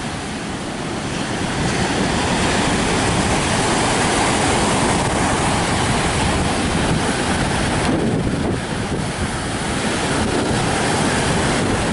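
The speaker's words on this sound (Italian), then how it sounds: "Come è mosso il mare" Rough sea surf breaks continuously on the beach at Marina di Torre del Lago under strong wind, a loud, dense, unbroken roar of waves and wind buffeting the microphone throughout.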